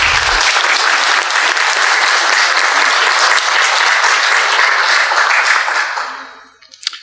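An audience at a children's care event bursts into loud, sustained clapping that fills the room for about six seconds, then quickly fades out.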